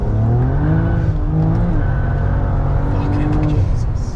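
A BMW with an N54 engine and DAW Flow Max+ hybrid turbos drives along, its loud, close engine drone rising steadily in pitch under acceleration and filling the cabin continuously.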